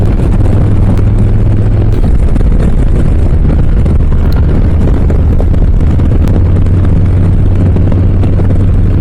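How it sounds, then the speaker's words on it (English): A 2023 Harley-Davidson Low Rider S motorcycle riding on the road toward Olympia, Washington, its deep engine rumble steady and loud beneath heavy wind buffeting, with the pitch shifting slightly as the ride continues and no voices. "Boy, this bike sounds so good."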